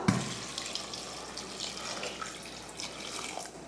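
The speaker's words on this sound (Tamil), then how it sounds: "இதில் தண்ணி ஊற்றிடலாம்" Water runs in a steady stream into a pot of lentils and tomatoes, splashing softly and continuously at close range.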